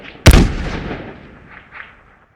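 A single loud Revolutionary War musket or cannon shot cracks out at close range near the start, then rolls off in a long fading echo with faint distant reports following.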